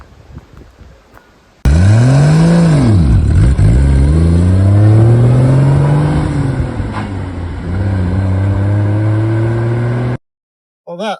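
A Triumph car makes a brisk takeoff, its engine roaring loud and close as the pitch climbs, drops at a gear change, then climbs again in a sustained rev before cutting off abruptly.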